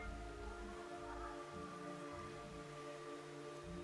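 Rain falling in Metal Gear Solid 3, a faint steady hiss of rainfall over a low musical drone, with no voices.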